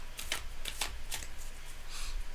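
Tarot cards are shuffled in several quick riffling bursts, crisp and close, with short pauses between them.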